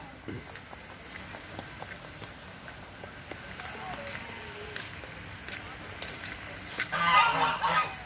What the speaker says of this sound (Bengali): রাজহাঁস নাকি হাঁস